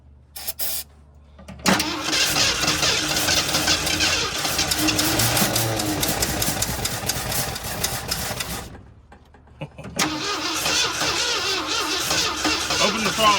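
Ford F350 engine with Duraspark ignition, left sitting 22 years, cranking loudly and steadily in two long bouts with a short pause between, close by.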